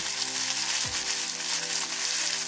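Spinach masala sautés in a pan for a palak paneer, giving a steady, close sizzle and hiss throughout with no voices.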